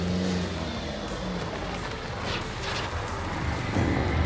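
A car drives up and arrives, its engine rumbling steadily close by with a slight rise in revs toward the end, with no talk over it.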